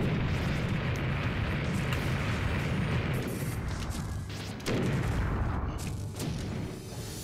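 Loud, dense barrage of Bullet Bill explosions in Super Smash Bros. Brawl, a continuous rumbling roar of booms with a fresh burst hitting hard near the middle before it rolls on.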